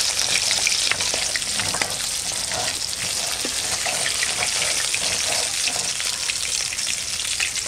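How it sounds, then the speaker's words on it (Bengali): Small hilsa fish fry in oil in a pan for a mustard and green chili curry, with a steady bright sizzle that runs throughout, close and fairly loud, and no voices. "মাছ দুই খোলাই ভাজা হয়ে গেল, আর এক খোলা আছে"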